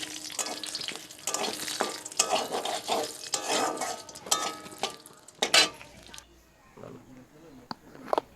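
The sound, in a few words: dried red chillies and bay leaves sizzling as tempering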